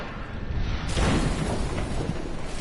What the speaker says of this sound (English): had an ability called Molten, which means that when they die, they leave an explosion